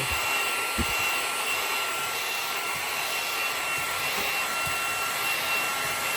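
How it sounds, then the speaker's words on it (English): A Hoover HFX Home cordless vacuum cleaner runs with a steady, close, high-pitched whine and airy rush, broken by a few faint bumps and clicks as it moves. "That's a cute little Hoover."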